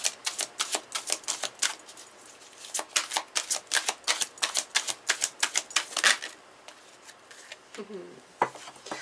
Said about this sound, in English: I'm going to pull some more cards here, see what else they have to say.